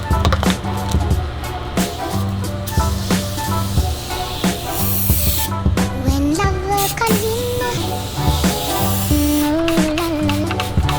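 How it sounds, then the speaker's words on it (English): Aerosol cleaner hisses in repeated short bursts as it is sprayed onto a grill mat, with background music playing throughout. "So I'm gonna try the aerosol here, and I'll try this spray here."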